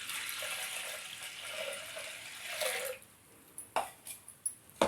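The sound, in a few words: water being poured onto toor dal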